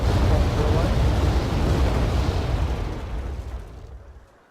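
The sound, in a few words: explosions from Tornado jets' bombing run in the Wargame AirLand Battle video game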